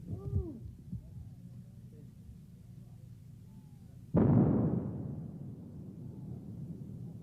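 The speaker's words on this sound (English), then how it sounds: "The rocket drags the line charge over the minefield, and it is detonated once it strikes the ground." A mine-clearing line charge detonates on a Gulf War minefield: a sudden loud explosion cuts in partway through, then rumbles and decays over several seconds after a stretch of low rumbling ambience.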